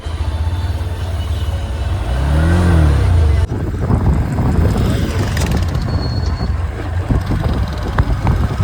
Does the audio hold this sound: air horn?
no